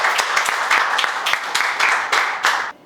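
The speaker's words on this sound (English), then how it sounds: "Clap for Shreya, everyone." A classroom group claps for a student, a dense burst of steady applause with sharp individual claps throughout, close and loud, fading at the very end.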